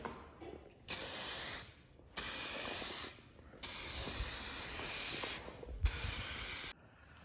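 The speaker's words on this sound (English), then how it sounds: "let's get spraying." An aerosol can of clear coat hisses in four bursts, each lasting about a second or two, separated by short pauses, close and steady, spraying a Porsche roll cage.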